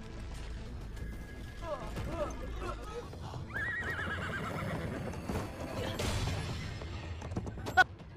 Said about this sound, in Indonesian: ternyata kuda yang ditunggangi Wang Fan memiliki kekuatan yang begitu dahsyat